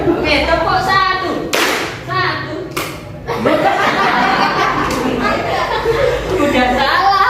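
A classroom doing a rhythmic clap routine during a lesson, with sharp bursts of group clapping alongside chatter, chuckles and loud talk close by.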